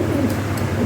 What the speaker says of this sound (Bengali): প্রাইড রেসার, হ্যাঁ, রেসার কবুতর